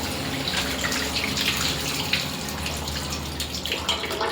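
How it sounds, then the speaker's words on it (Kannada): Tap water runs steadily while a greasy kitchen item is rinsed during deep cleaning, a close, continuous splashing flow with small irregular spatters and no talking. "ಆಮೇಲೆ ನೀರನ್ನು ಹಾಕಿ ಚೆನ್ನಾಗಿ ಒಂದು 2-3 ಸಲ ತೊಳಿಬೇಕು"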